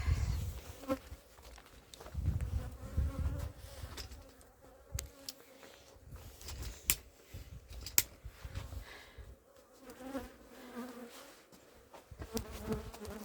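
Honeybees buzzing around hives at an apiary on a cold spring day, a dense swarming drone with individual bees passing near the listener, plus occasional handling knocks and rustles.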